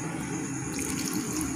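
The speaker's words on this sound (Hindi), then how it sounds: "हल्का सा पानी ऐड करेंगे" Water pours into a pot of sambar as it cooks, a steady close splashing and running-water rush that holds evenly for the whole moment.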